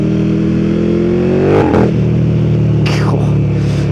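A motorcycle engine drones loudly at steady revs, then a quick gear change breaks the tone before the engine climbs again with a rising snarl.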